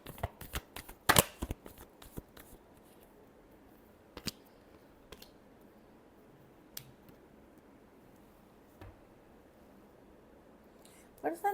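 Tarot cards are shuffled in short quick riffling bursts, near and crisp, with a few isolated flicks and taps between them in an otherwise quiet room.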